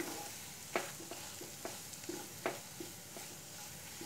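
Dry spices including coriander powder and Kashmiri red chili frying in a pan, a faint, steady sizzle with light periodic spoon taps and scrapes, quiet and close, no voices.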